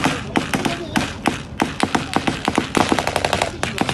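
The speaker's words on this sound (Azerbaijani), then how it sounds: "Atışma səsi." Rapid bursts of machine-gun fire and single gunshots during a battle in the Second Karabakh War, sharp repeated cracks in uneven volleys, loud and close throughout with no talk.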